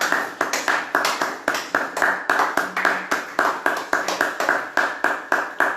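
A church congregation clapping in steady rhythmic unison during worship praise, a continuous even beat of many hands filling the room, with faint voices beneath.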